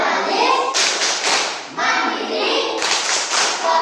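A classroom of children performs the Tepuk PPK clapping game, clapping in quick rhythmic bursts interspersed with chanted words, loud and close in a lively indoor space.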